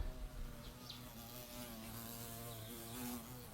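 A bumblebee buzzes close by outdoors in the traditional village of Shidonggou in Henan, a continuous droning hum that wavers in loudness as it moves, with no talking.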